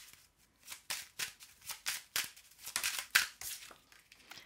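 Oracle cards riffled and handled in quick bursts, a string of crisp papery flutters and slaps repeating close up with short pauses between, no talking.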